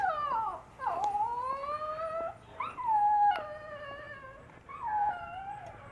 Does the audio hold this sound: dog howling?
yes